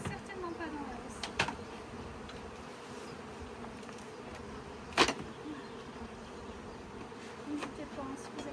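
Honeybees at an open hive fitted with a queen excluder, giving a steady low buzz throughout with a few louder close passes, the clearest near the middle, and faint voices in the background.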